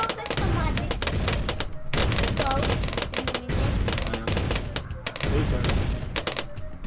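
Gatling gun towers firing nonstop in the tower defense game Bloons TD5, a dense, loud, rapid rattle of gunfire bursts that barely lets up across the whole stretch.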